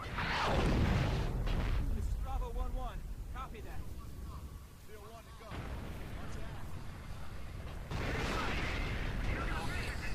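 Explosions destroying a bunker in the video game Steel Battalion Heavy Armour, several heavy booms and rumbles layered with game sounds and mechanical noise, while a voice speaks over them.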